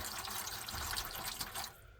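Rust remover solution being poured into a container, a soft continuous splashing and trickle lasting about two seconds before tapering off, fairly quiet and without talk.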